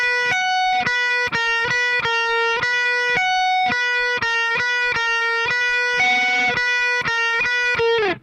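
Distorted electric guitar riff, played legato with a lead part on top: a steady run of repeated picked notes and higher held tones, loud and close, with no voices.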